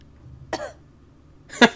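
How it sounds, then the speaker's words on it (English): Two short, dry coughs sound close up in a quiet room, about a second apart, the second one louder and harsher. "Cough."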